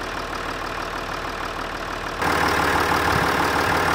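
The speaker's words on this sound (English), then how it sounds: "Hopefully you can hear the engine ticking over" A car engine idles steadily close by with a low, even rumble, growing noticeably louder and rougher partway through.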